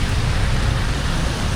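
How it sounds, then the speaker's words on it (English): Heavy rain falls in Hatyai as a dense, steady hiss, loud and close, with no voices. "It's still going to be raining"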